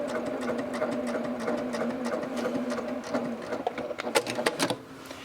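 A sewing machine stitches fabric for a cathedral window quilt block, a fast steady mechanical whir with rapid needle clicks, close up, turning into a few quicker uneven bursts before stopping.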